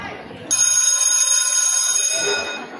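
An electric school bell rings for break, a loud, steady metallic ring lasting about a second and a half that stops abruptly, with murmured voices before and after it.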